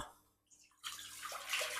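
Water pouring into focaccia dough in a home kitchen, a brief splashing gush that starts after a near-silent pause and keeps flowing steadily to the end.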